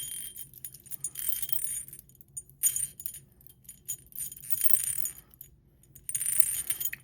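Round pink stone beads tumble into a bowl in several clattering bursts of small hard clicks and rattles, moderately close with quiet pauses between pours.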